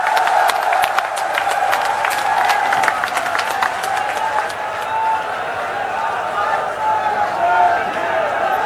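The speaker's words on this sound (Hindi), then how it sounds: "एक बार जोरदार तालियां चित्रा सिंह जी के लिए।" At a Swabhiman Sabha rally, a large crowd bursts into loud clapping and cheering that is dense at first, then thins and fades as a voice carries over the thinning applause.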